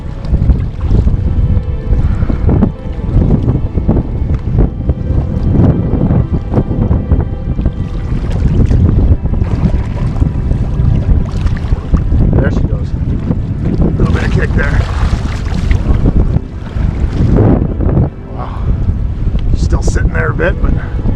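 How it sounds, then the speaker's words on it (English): Strong wind buffets the microphone on a fishing boat while musky fishing in Canada, loud gusty roaring with bursts of water and hull noise throughout. "So difficult with this fucking wind."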